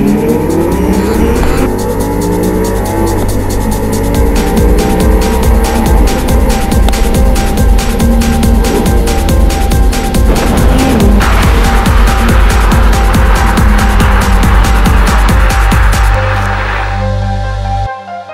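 An Audi R8 V10 in sport mode does a launch control start, its engine holding high revs, then roaring loudly and rising through the gears in repeated climbing sweeps before easing off at the end.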